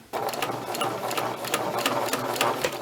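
A sewing machine stitches a fabric seam along a half-inch guide line, its needle chattering in a fast, even mechanical rhythm heard up close and alone.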